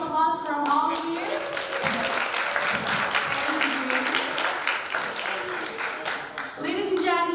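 Big round of applause from the audience at the Asia Pacific Business Forum Indonesia 2022, continuous crowd clapping throughout, with a host's voice speaking over it at the start and end.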